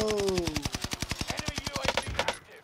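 Rapid automatic gunfire in the shooter game Warzone, a steady burst of evenly spaced loud shots lasting about two seconds, with a faint voice briefly at the start before the firing takes over.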